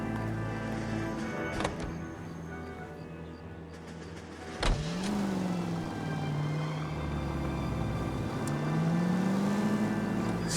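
A car drives through the city streets in L.A. Noire, its steady engine hum rising and falling in pitch as it accelerates and shifts. A brief thump breaks in midway, and the low motor drone carries on with no one talking.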